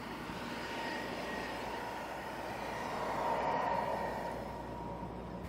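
At Auckland Airport an airliner lines up on the runway, giving off a steady distant engine roar and whine that swells slightly midway, with no talk over it.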